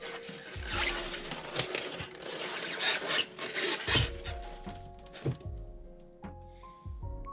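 An airsoft gun, a Matrix GBB M4 CQBR, is pulled out of its styrofoam packaging. Scraping and rubbing of foam comes in dense bursts, followed by a few soft thunks and squeaks near the end, close-up and with no talk.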